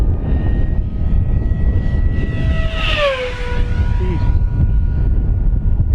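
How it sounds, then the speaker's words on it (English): An E-flite V1200 RC jet plane at full power on a paved runway makes a loud, close rising whine that sweeps up and down in pitch as it passes, over steady wind and motor roar. "I just punched the power there. Let's come right down the runway hot, Steve."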